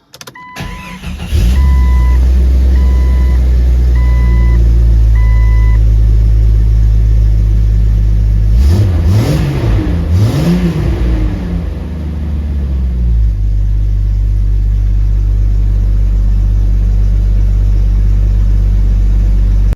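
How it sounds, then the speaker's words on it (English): A 1998 Jeep Cherokee XJ with a new Dragon Fire ignition coil cranks briefly, catches and settles into a steady, loud close-up idle with a couple of revving swells partway through, no talking. "Let's hook the battery up and crank it over."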